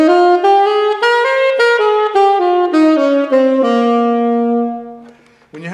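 Tenor saxophone running jazz modal scales with back-tongued swing articulation, a close, loud solo line of connected notes stepping up and down in a steady swung rhythm, ending on a long held low tone.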